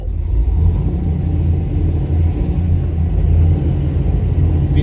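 A 1970 Chevrolet Nova accelerates hard, its engine a loud, deep rumbling roar that holds steady and close for several seconds with no talking.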